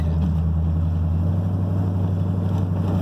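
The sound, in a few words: dually pickup truck driving with new exhaust and headers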